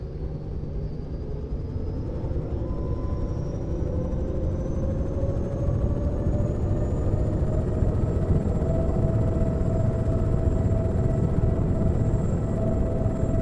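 A video game helicopter's engine and rotor drone steadily during takeoff, the whine slowly rising in pitch as power builds, a constant rumbling roar with no voices.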